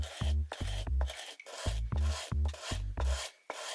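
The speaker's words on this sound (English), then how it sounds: "Take the mallet in your other hand and run it over the sandpaper several times to smooth out the chamfer on the end." A wooden carver's mallet rubbed back and forth over sandpaper to smooth the chamfered end, heard as about seven rhythmic rasping strokes, close and distinct, with brief pauses between them.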